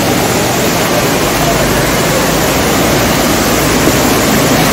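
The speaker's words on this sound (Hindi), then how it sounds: "ये वाटरफॉल है।" A waterfall in Nainital woodland sends out a constant loud rushing roar, close and unbroken throughout.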